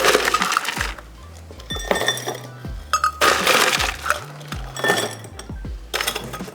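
Ice cubes clatter and clink into cocktail glasses for an old fashioned, landing in several loud, close bursts of hard knocks and rattles spread over six seconds.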